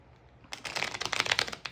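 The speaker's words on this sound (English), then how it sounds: "I can actually weirdly rifle shuffle these cards" A deck of tarot cards being rifle shuffled by hand: a quiet pause, then a rapid ripple of fluttering card snaps, close and crisp, ending in a brief riffle.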